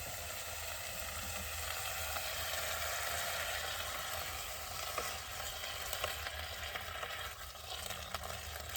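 Sausage sizzles and spits steadily in a hot pan while a hot meal is cooked in a van on a cold day, a continuous close frying hiss with no talking.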